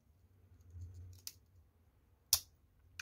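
Faint scraping followed by two sharp metallic clicks as the small scissors of a pocket knife snap open, in a quiet room.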